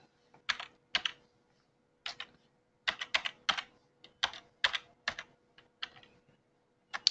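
Bursts of quick keystrokes on a computer keyboard while an email address is typed, close and clear in short clusters separated by brief pauses in a quiet room.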